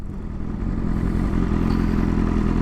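Exhaust of a sport motorcycle, a Kawasaki ZX10 or BMW S1000RR, a loud, steady, close engine drone that swells slightly and holds throughout, mixed with some wind roar.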